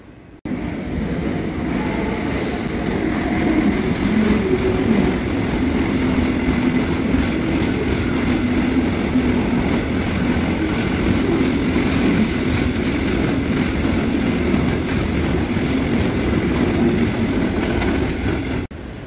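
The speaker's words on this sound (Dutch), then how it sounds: "Komt er nou een goederentrein?" Freight train rolling past on a Dutch railway line near Eindhoven, a steady loud rumble of wagons with faint clickety-clack over the rails, sustained for the whole stretch without any talk.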